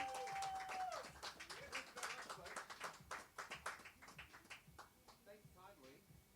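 Light applause from a small audience at a music club for a performer, scattered claps under an announcer's voice, fading into quieter taps and murmurs.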